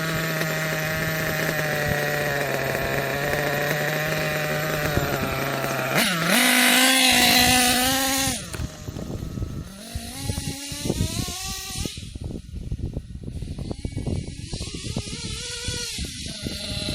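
Small nitro engine runs steadily with a buzzing harmonic drone, then revs up sharply and screams for a couple of seconds before dropping back to a rougher, sputtering idle as the idle screw is adjusted.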